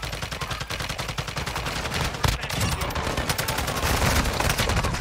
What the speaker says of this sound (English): Don't worry, I'm only shooting guys around.